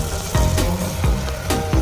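Soaked rice frying in hot oil in a pan for a menthya bath, a steady close sizzle with periodic stirring scrapes, no voices.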